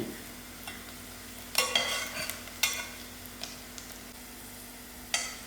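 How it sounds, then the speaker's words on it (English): Onions frying in a pot for samp, beans and mutton, with a spoon stirring and scraping in a few loud bursts over a low steady sizzle. No voices. "The onions and the biryani stick has fried out nicely"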